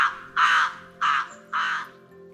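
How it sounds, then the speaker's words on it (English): Crows cawing as a sound effect: three loud, harsh caws in a slow, evenly spaced sequence, close and clear with no talk. "The crows croaked."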